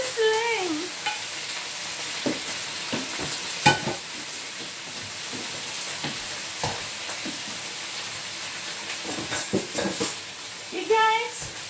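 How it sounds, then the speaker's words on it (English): Steady sizzling and frying crackle from mussels in a hot pan, with occasional utensil scrapes and stirring and a few faint voice fragments. "Can you hear the sizzle? Yeah, it's sizzling."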